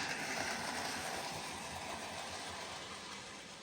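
A railway wagon rolls down the line with a steady, broad rumble and hiss that slowly fades as it moves away, no voices.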